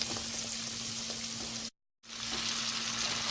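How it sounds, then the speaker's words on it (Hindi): Butter sizzles in a pan as aloo gosht cooking begins, a moderate, even crackling hiss that cuts out briefly in the middle and then carries on at the same level, with no talk. "ये पैन लिया मैंने, इसमें मैं बटर डाल रही हूँ।"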